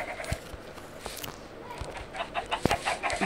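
Chickens cluck on a farm in a survival-mode building game, with short scattered clucks and a sharper peep near the end over a steady ambient background.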